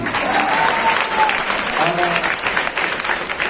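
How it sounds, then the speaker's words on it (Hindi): A live motivational-event audience claps steadily, with whistles and shouts rising over the dense, continuous applause, close and loud throughout. "जो लोग ऐसे चिल्ला रहे हैं, जो लोग सीटी बजा रहे, ताली बजा रहे"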